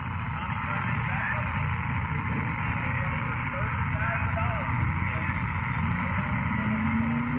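A Tommy TD Rainer Pro 275 hydroplane racing boat engine drones loudly and steadily throughout, with a voice talking over it.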